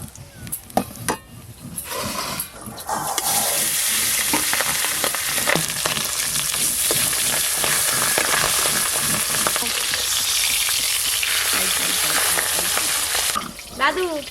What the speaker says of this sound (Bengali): আর একবার মাছ ভেজে নিই